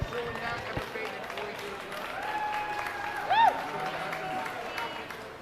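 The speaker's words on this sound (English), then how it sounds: "let's go ahead and give them all a nice round of applause" Steady, moderate applause fills a livestock show arena as youth beef showmanship exhibitors leave the ring, with faint tonal sounds and background voices mixed in.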